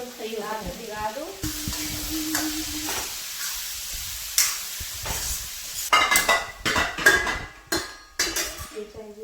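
Tea being made in a pot in a home kitchen: clinking metal utensils, scraping and stirring against the pot, and a short sizzle, with sporadic sharp clatters and a few faint voices.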